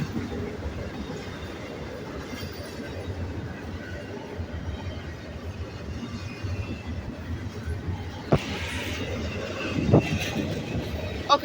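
A long Norfolk Southern intermodal freight train carrying containers rolls past in central Virginia, a continuous rumble of wheels on rail with a sharp squeal and clatter near the end; a voice speaks briefly over it.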